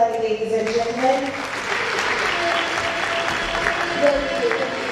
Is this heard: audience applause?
yes